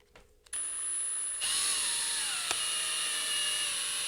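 Rivet tool setting a rivet through a speaker shell: a steady mechanical whine starts abruptly and holds, with a rising tonal shift and a brief sharp pop partway through, heard alone.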